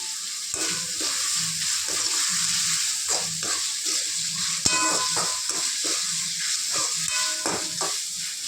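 Potato masala with tomatoes, curry leaves and coriander frying in a pan, giving a loud, steady sizzle with repeated scraping and stirring strokes of a spoon throughout, and no talk.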